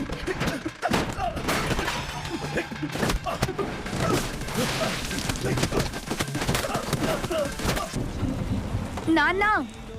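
Movie scene with heavy rain and rumbling thunder, a dense hiss of downpour broken by sharp cracks and booms throughout, under scattered voices and a rising tonal cry near the end.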